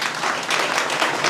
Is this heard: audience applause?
yes